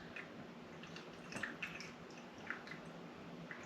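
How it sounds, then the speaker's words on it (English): Grease rendered from cheese and meat being poured off an air-fryer meatloaf in an RV kitchen, a faint scattered patter of drips and small splashes, quiet and close, with no talking. "I'm going to pour a little bit of this grease out"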